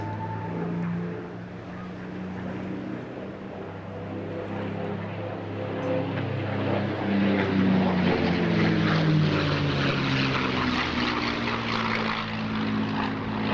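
A P-51D Mustang "Warhorse" with a Rolls-Royce engine flies a display in the summer sky, its propeller drone building and shifting pitch as it passes, loud and sustained throughout.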